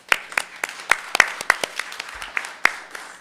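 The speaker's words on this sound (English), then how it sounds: "That deserves a round of applause" Sparse applause at a school district board meeting, a few separate sharp claps scattered irregularly over a quiet room rather than a full ovation.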